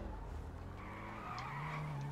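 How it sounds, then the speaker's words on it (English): A small, agile mini car skids through a J-turn in GTA V, its tires squealing in a rising, sustained screech over a low engine drone, fairly close and steady throughout. "That's an amazing J-turn."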